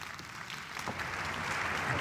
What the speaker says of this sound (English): One more round of applause for our brave volunteers